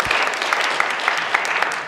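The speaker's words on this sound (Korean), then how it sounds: "자, 박수나 한번 칩시다." A church congregation claps together during a Sunday worship service, a steady dense patter of many hands filling the room for about two seconds with no voices on top.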